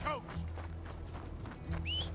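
A horse in Red Dead Redemption 2 clip-clops along with steady hoofbeats under ongoing game sound, joined by a brief whinny, while someone talks over it.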